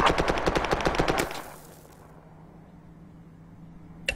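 Rapid automatic fire from a technical's mounted machine gun in the video game Project Reality, a close, loud burst of about a dozen evenly spaced shots lasting just over a second, then cutting off into quiet with a faint hum.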